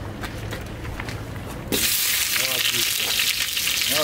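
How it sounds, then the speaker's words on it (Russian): Chopped onion hits hot olive oil in a pan, bursting into a loud, bright, steady sizzle that suddenly takes over from quieter kitchen noise and keeps crackling up close. "в первую очередь закидываем лук"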